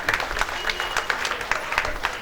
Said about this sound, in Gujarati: તાળીઓથી વધાવશું આપણે જોરદાર